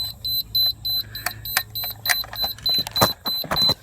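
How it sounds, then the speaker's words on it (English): A wireless fence transmitter emits a rapid, regular series of short high-pitched electronic beeps, clearly audible over faint handling clicks and rustles nearby. "Beeping!"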